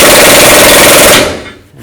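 A power tool tightens a lower control arm bolt on a Chevy Tahoe, one loud continuous rapid hammering burst lasting over a second, very close, then cutting off into quiet.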